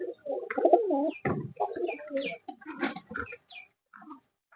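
Domestic pigeons at feeding time coo and burble close by in uneven bursts with brief pauses, their throaty calls broken by short sharp sounds and fading toward the end.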